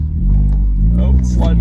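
A 2011 Hyundai Genesis Coupe 2.0T strains in snow on a Georgia driveway, its engine droning low and steady up close for a brief moment while a person talks over it.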